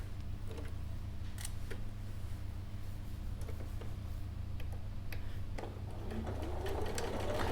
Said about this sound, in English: I'll do a bit of reverse at the turning gap.